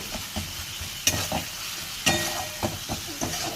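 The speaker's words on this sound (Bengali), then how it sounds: "মশলা ভাজা হয়ে আসছে এত, কারণ এই যে একটু করেই তেল ছাড়ছে" Spices fry in a little oil in a pan, a constant soft sizzle broken by several sharp scrapes and clacks of a spoon stirring, close and fairly quiet.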